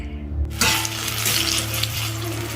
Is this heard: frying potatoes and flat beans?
yes